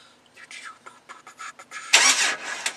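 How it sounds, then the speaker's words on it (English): A Jeep Wrangler YJ starter motor kicks in when triggered by a wire, giving a short, loud burst of cranking noise after some quiet fumbling clicks, without the engine catching. "you should hear the starter kick in"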